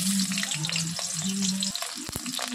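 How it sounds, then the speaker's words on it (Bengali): Bitter gourd pieces frying in hot oil in a wok, close crackling sizzle with spatula scrapes and stirring knocks, a few sharp clatters near the end. "তেলটা গরম হয়ে গেলে উচ্ছে দিয়ে দেবো।"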